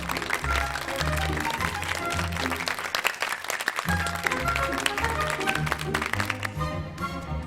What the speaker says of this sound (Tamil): சாந்திக்கு எல்லாம் கைத்தட்டுங்க.